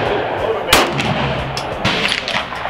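A single sharp gunshot from a pistol fitted with a conversion kit, fired outdoors, followed by a few fainter pops against loud wind-like background noise.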